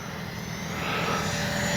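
A Freewing 90mm F-4 Phantom II RC jet flies with a steady ducted-fan whoosh that rises and grows louder partway through, heard alone with no talking.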